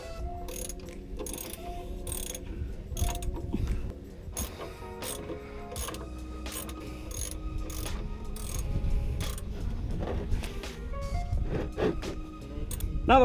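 A ratchet clicks in quick repeated bursts while loosening the oil drain plug on a Ford Crown Victoria, sharp close-up pawl ticks separated by short pauses of mechanical shuffling.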